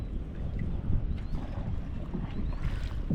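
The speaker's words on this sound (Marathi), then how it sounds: "जतीन चालवायला लागलाय होडी" A small fishing boat moves across open water on a net-fishing trip, with a steady low rumble and wind buffeting close by; no voices.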